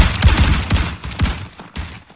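A volley of rifle gunfire in the video game Arma 3 during a Warhammer Empire co-op mission, with a ragged cluster of loud, overlapping shots followed by a few scattered, fading reports.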